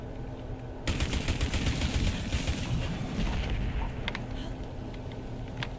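Rapid automatic gunfire in the Destiny 2 video game, a dense continuous burst of shots starting abruptly and running steadily, with a few sharper single cracks near the end.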